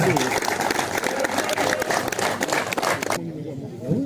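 An outdoor audience at the Enduro Provins Carp Open fishing competition claps for the winning carp team, a dense burst of applause mixed with talking that stops abruptly near the end.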